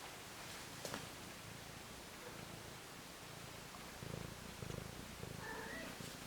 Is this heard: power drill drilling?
no